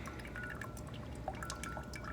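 Water is poured over coffee grounds in a pourover brewer, a steady, quiet, close trickle with small scattered drips throughout.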